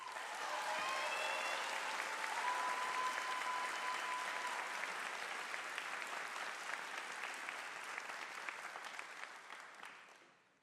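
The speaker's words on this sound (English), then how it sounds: "Please join me in applauding these special guests." An audience at a pharmacy school doctoral hooding ceremony applauds special guests, with a sustained, full round of clapping that fades out near the end, while a faint tone and a short voice are heard early.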